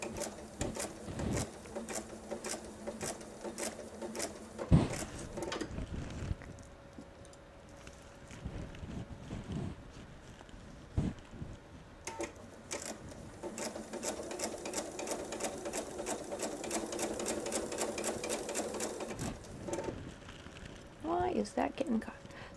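A sewing machine stitches a quilted patriotic nine-patch table runner in long steady rapid runs, pausing and restarting, with a brief sharp knock near the start and light handling noises throughout.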